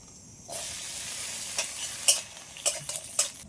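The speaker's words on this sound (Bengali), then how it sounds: "এবার আমি কাজু কিশমিশটা একটু হালকা করে ভেজে নেব।" Cashews and raisins hit hot melted ghee and begin a steady bright sizzle, joined by several sharp clinks and scrapes of a spoon stirring them in the pan.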